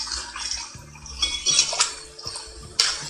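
Water splashing and sloshing in a bowl as turkey necks are washed with sliced lime, close and continuous, with soft knocks and drips and no talking.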